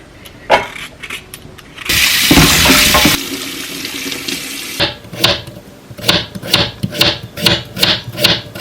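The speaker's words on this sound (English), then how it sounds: "To make Kewa, just slice all the potatoes like this." A knife slices potatoes for Bhutanese kewa in a steady run of crisp, close cuts. A burst of running tap water comes just before, with no talking.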